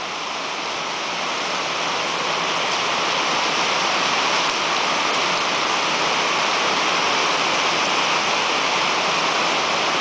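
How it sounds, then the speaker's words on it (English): Steady, dense hiss of rain falling outdoors, constant and enveloping with no voices, holding at an even level throughout. "I love coming out here and just listening to the rain sometimes."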